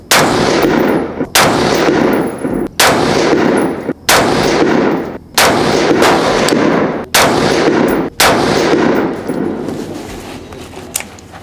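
A rifle fires 55 grain 5.56 ammunition at a range, eight loud shots at a steady pace roughly a second and a half apart, each crack followed by a sustained ringing wash.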